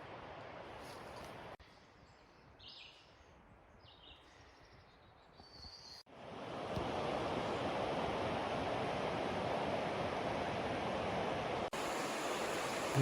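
River water rushing and churning along a hiking trail, a steady broadband roar that is softer at first, then swells louder and fuller midway and stays constant to the end, with no talk.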